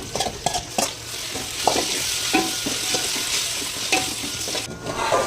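Marinated chicken fries in a pot with mint, bay leaf, tomato and coriander, a loud steady sizzle under frequent scraping and clanking of a spoon stirring against the metal.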